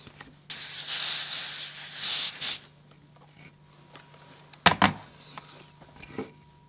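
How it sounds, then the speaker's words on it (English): A steam iron hisses against crushed wood fibers on a boat plank, a steady spray of steam for about two seconds, then a sharp knock and quieter rubbing afterward. "so let's see what happens when you steam that out."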